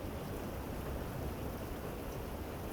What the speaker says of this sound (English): For a second, there was nothing but the rain.